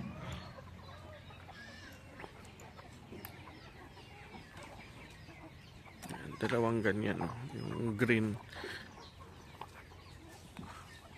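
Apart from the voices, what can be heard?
chickens clucking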